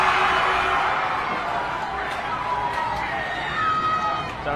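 Crowd noise in a high school boys' basketball gym, Braintree versus Natick, fans making a sustained roar with whistles and shouts to distract a free throw shooter. The noise is steady and loud throughout, with squeaks and voices mixed in.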